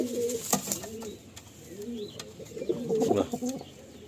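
A pair of pigeons coos nearby after release, with repeated soft rolling coos and a few short flutters and clicks scattered through.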